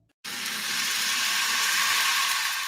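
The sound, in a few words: Certified Piedmontese beef sizzling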